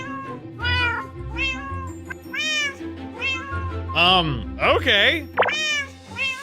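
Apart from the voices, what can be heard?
cat meowing in video game Minecraft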